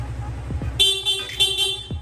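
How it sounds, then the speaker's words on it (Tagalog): Two short honks from a stock motorcycle horn, a bright buzzy tone sounding close, with a faint idling engine underneath. "Tapos sa busina, stock horn."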